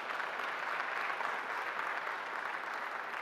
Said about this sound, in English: can I request a round of applause for this wonderful panel?